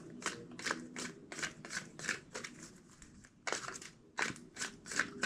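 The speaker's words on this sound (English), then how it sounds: "Two more shuffles." Tarot cards are shuffled by hand in a quiet room, a series of close, crisp riffling bursts with brief pauses in between.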